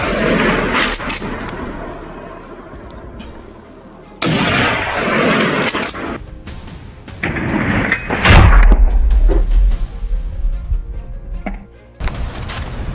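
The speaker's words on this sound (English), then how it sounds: "the marksman tracked the beast's movements and fired" Rifle shots are fired at a wild boar out on snowy ground while a farmer defends his land. Loud, sharp blasts echo and boom in succession, with heavy low rumbling trailing after the strongest shot.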